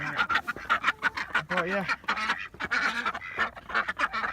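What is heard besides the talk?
ducks quacking in the snow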